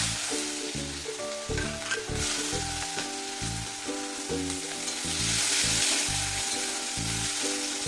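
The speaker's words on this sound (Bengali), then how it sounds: "তেলের মধ্যে দিয়ে দিচ্ছি একটু কালো জিরা আর এখানে দিয়ে দেবো দুটো পেঁয়াজ কেটে নিয়েছি দিয়ে দিচ্ছি" Nigella seeds and sliced onions sizzle loudly in hot oil in a pan, a constant bright frying hiss with rhythmic scraping stirs throughout and no talking.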